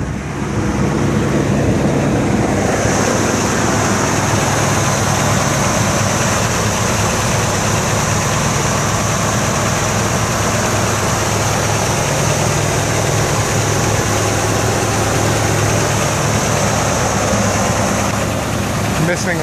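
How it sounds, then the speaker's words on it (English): A rough-running older car engine idling steadily nearby, a constant low rumble with a sustained whine layered on top, and someone talking over it. "Car's running."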